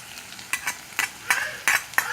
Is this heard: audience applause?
no